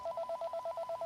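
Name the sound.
telephone ringing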